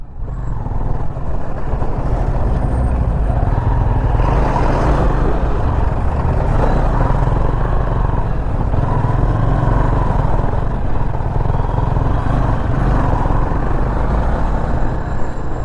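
A motorcycle rides a winding mountain road near Kurseong, its engine drone steady and loud alongside continuous wind and road rumble throughout, with no voices.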